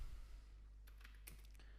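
Keystrokes on a computer keyboard as a channel name is typed, a handful of light clicks in a short irregular burst, faint and close, with no talking.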